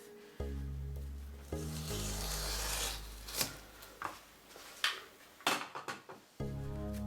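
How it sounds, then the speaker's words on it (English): A Westcott craft knife slicing through pages of an old book, scraping strokes with sharp cutting rasps and clicks, close and distinct against a low background hum. "cut some pages out of this old book, and I'm just going to use a Westcott craft knife"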